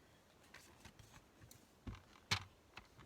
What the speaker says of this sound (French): Donc on va prendre son massicot